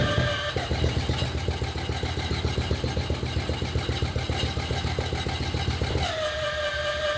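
A turbocharged drag car engine cranks with a rapid rhythmic chugging, catches, and settles into a steady idle, close and fairly loud.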